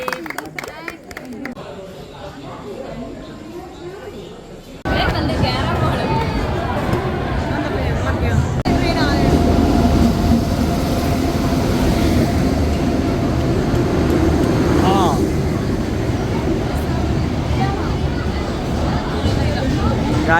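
A train running, a quiet stretch giving way after a few seconds to a loud, steady rumble that carries on to the end, with people chattering and talking throughout.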